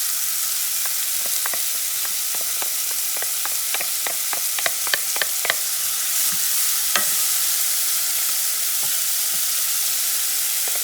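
Garlic sizzles in a frying pan as eggplant stew ingredients are stirred, a steady bright frying hiss broken by a run of sharp scraping and clinking stirring strokes, close and without talk.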